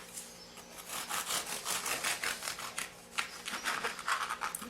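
A knife saws through a warm, fragile anise biscotti loaf in steady back-and-forth scraping strokes, close and moderately loud, with a crumbly gritty texture.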